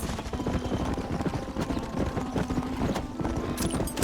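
Rapid clip-clop of hooves from several horses moving together in Red Dead Redemption, a busy uneven patter with a faint whinny-like tone in the background.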